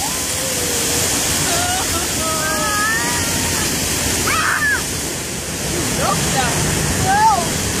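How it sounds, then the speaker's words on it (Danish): A waterfall splashes at the Bon Bon Land theme park in Denmark, a steady loud rushing roar throughout with faint voices and bird chirps layered over it. "Ja, du har vandfald det der!"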